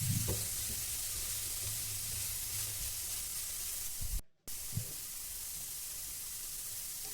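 Cabbage and carrot with a little garam masala fry in a pan, a continuous bright sizzle with soft stirring scrapes and a brief break before the hiss resumes.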